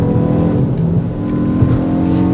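A Hyundai i20N hot hatch engine is heard from inside the moving car, a loud, steady drone with a slight waver in pitch and no voices over it.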